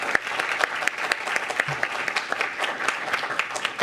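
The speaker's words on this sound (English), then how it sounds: "Let's go ahead and give them a round of applause." Steady applause from an audience at a candidate forum for the Tahoe Forest Hospital District, a dense patter of claps that holds evenly for several seconds without a break.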